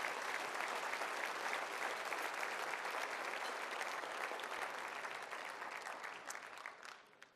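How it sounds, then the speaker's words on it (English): A crowd at an association annual meeting claps steadily in sustained applause, dense and even, gradually fading out toward the end. "So please give Mark a huge round of applause."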